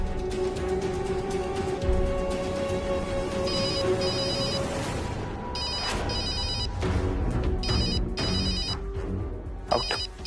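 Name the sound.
mobile phone ringtone, incoming call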